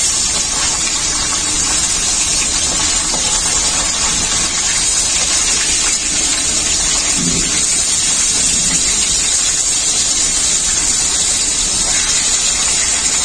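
Hilsa fish, browned lightly on one side, keep frying in oil with a loud, constant sizzling hiss that stays steady and close from start to finish.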